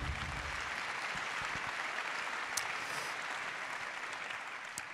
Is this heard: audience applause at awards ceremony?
yes